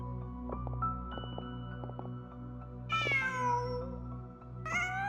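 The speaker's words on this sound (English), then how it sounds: "Huh. Just a cat." A cat meows in Genshin Impact: two drawn-out, rising-and-falling meows, the first near three seconds in and a shorter one near the end, heard over a soft, steady game music bed with light plucked notes.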